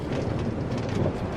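A Minecraft train rumbles along in a low, steady roar with a faint airy hiss on top, loud and continuous for a brief stretch.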